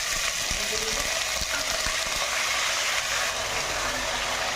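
Panch phoron and dry red chillies fry in hot oil, giving off a steady, loud sizzling hiss with a few soft clicks and knocks from the pan throughout.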